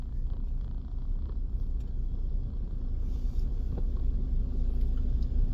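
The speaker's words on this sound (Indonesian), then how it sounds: "Ini udah knalpotnya lebar, berisik, nungging lagi." A nearby vehicle with a loud, wide exhaust idles in a deep, continuous rumbling drone that holds steady throughout, close and heavy.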